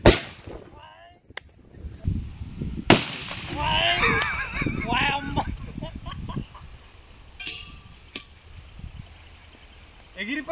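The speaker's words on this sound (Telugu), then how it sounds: "అదే బాంబు. ఇగో ఈ చెంబులు ఎట్టి కాలుద్దాం, ఎంత పైకి లేసో చూద్దాము." A firecracker bomb set under a metal pot bursts during Diwali cracker testing outdoors, with sharp bangs and clattering transients standing out over a fizzing, crackling background and some distant voices.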